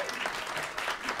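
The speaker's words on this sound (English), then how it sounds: "I want a round of applause for him" Audience applause at a live song performance, greeting the evening's accompanist: steady, dense clapping holding at an even level throughout the short stretch, with no voices over it.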